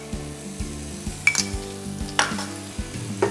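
Beetroot halva with coconut cream cooks in a pan with a gentle sizzle and regular knocks of a spoon stirring against it, plus a few brighter clinks.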